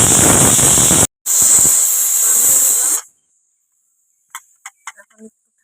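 A pressure cooker boiling chickpea dal lets out a loud, close hiss of escaping steam that cuts off briefly, resumes, then stops abruptly, followed by a few faint clicks and taps.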